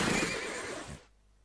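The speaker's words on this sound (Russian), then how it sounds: "Они как настоящие лошади орут" Tasty Blue game horse neighing: a short, loud, whinnying cry that cuts off abruptly after about a second, alone without talk.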